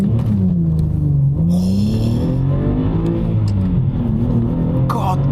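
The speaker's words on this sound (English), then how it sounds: "I do have permission from the owner to launch this car." A Subaru Legacy 3.0 Spec B launches hard, its engine revving loudly and continuously, with pitch climbing and dropping through gear changes, heard up close from inside the car.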